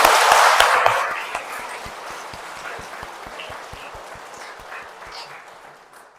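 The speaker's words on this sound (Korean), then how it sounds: "이걸 이루어낸 의정부 교구에 박수 한번 불러드리고 싶어요." An audience applauds the diocese at a martyrs' shrine. The clapping starts fairly loud, then settles into lighter, scattered claps that continue to the end.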